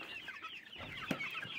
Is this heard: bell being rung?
no